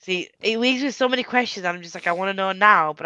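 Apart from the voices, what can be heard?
No everyday noise stands out behind the speech.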